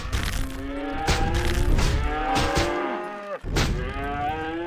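A cow in a VR video game gives several long, loud, drawn-out moos one after another, close and clear, broken by a short thud near the middle.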